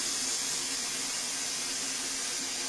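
Steady, fairly loud hissing spray of liquid from cleaning car engine parts, continuous with no breaks and no voices over it.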